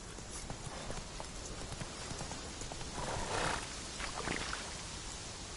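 Roach, the horse in the video game Witcher 3, gallops with a steady run of hoofbeats under broad game ambience, growing briefly louder and busier partway through.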